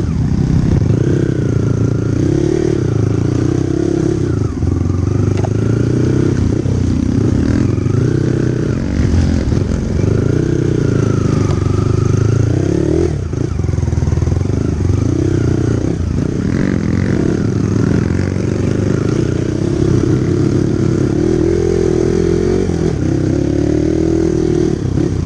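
A trail motorcycle on balding, grip-less tyres labours up a steep mountain track between Pangasinan and Benguet, its engine droning loud and close throughout with rising revs and clattering over rough ground.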